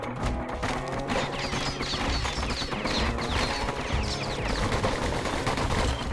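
Rapid gunfire from the kid's weapons in the action game Bastion, dense continuous bursts of shots layered over game music and effects throughout, loud and steady.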